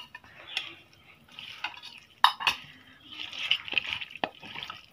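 Raw washed chicken pieces being mixed by hand with spice paste in a home kitchen, making soft, wet squelching and stirring sounds with a few sharper clicks against the bowl, fairly quiet and close.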